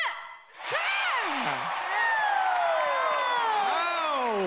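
A studio audience at a KBS music show cheers for a K-pop group with loud, high-pitched screams and shouts. The cheering surges after a brief dip and holds steady and close throughout.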